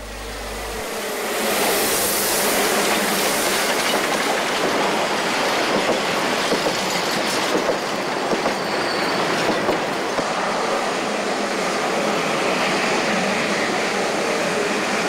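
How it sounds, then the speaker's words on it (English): Double-headed narrow gauge steam train in early-1990s Eastern Europe hauling heavy standard gauge wagons on roll-wagon bogies, a loud continuous rumble of wheels with clattering rail joints and some squeal, building in over the first second or two and then sustained. "Double heading is often necessary in order to handle heavy, standard gauge wagon loads riding on narrow gauge bogies, known as roll wagons"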